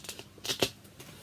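Paper outer envelope of an Erasure vinyl record being handled and opened, a few quiet papery rustles and one brief crisp crinkle, close and soft with no voices.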